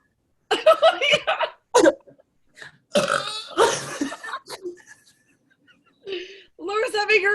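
A girl lets out several loud, drawn-out burps during a burping contest between two girls, separated by short pauses, with laughter and chatter from others between them.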